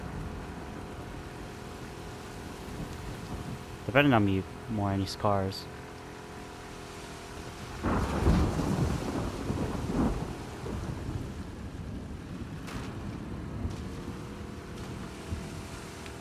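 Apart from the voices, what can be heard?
thunder and rain in video game The Last of Us 2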